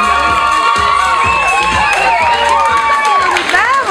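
Loud cheering and excited shrieking from a pageant audience at the Miss Fashion 2016 semifinal, with rising and falling screams layered over continuous clapping, close and unbroken throughout.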